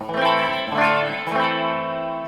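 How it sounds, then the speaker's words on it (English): A Silvertone 1488 electric guitar on its bridge pickup rings out a few sustained, slightly overdriven chords with a chorus-like shimmer, loud and close, with no talking. "This is still just the bridge pickup."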